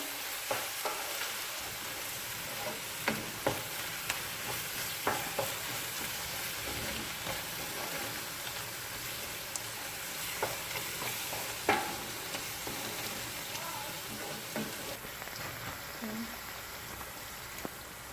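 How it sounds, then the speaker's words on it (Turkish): Steady sizzling of onions and garlic frying in a pan with occasional stirring scrapes and clinks, continuous and fairly close. "Birlikte 2-3 dakika daha kavuralım."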